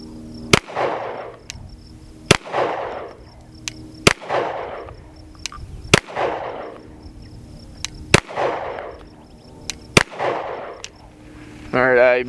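A rifle fitted with a GOWUTAR A20 optic fires at a target to check the optic's zero after drop testing. Seven sharp, loud shots ring out at an even, unhurried pace, each followed by a short decaying echo.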